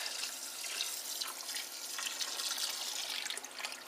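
Water pours and splashes steadily into a filling tub during an aquarium water change, a soft continuous rush at low volume.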